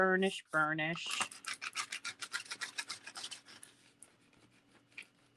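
Transfer tape is burnished down over Cricut Smart Vinyl on a sunflower charger plate, a close series of quick, rhythmic scraping rubs that fade gradually after a brief bit of talking at the start.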